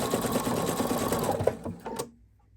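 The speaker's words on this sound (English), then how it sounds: "I like to do a fixed stitch or a back stitch here" A sewing machine runs a quick back stitch on a t-shirt dress. Its rapid, steady mechanical chatter is close and clear, then cuts off into silence.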